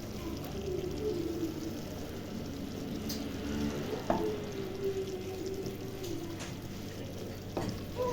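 Chicken liver and olive tagine sizzling and frying steadily in a pot while being stirred, with soft scraping and a few sharp clinks, heard close and alone with no talk.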